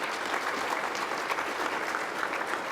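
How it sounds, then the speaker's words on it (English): An awards gala audience claps steadily and continuously for nearly three seconds, a dense even patter of many hands at moderate volume with no voices standing out. "Can we give them a round of applause?"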